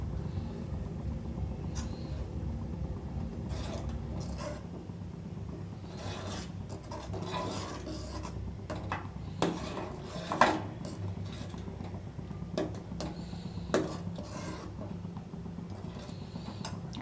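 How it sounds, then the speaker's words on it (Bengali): Chhana is stirred in a pot on the stove while chhana-cutting powder is added bit by bit. A steady scraping rub sounds over a low background hum, with occasional sharper knocks of the utensil against the pot. "এবার এখান থেকে অল্প অল্প করে পাউডার দেবো আর মেশাতে থাকবো।"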